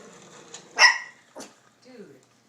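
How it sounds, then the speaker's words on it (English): Dogs bark outdoors during a backyard fire tornado demonstration, one loud sharp bark followed by a couple of fainter yips and a whimper-like sound, with people talking nearby. "And the dogs are barking."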